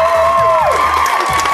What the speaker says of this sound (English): good clapping straight from A&E